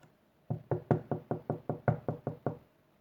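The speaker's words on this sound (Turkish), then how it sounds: "kapı mı çaldı?" Knocking at a door: about ten quick, even raps in a steady rhythm, close and clear against a quiet room.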